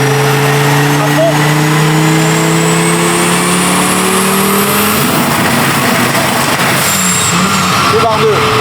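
An Audi car engine held at full throttle fills the clip with a loud, sustained rising roar and a steady high whine, with no break in the noise.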